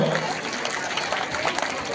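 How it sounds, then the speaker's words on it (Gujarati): Dense applause from an audience at a school prize-giving ceremony, steady continuous clapping filling the room for the whole stretch, with a murmur of crowd noise beneath. "આપને વિનંતી છે કે બાળકોનું પ્રોત્સાહન રૂપી તમે તાળીઓથી એમને વધાવી લો"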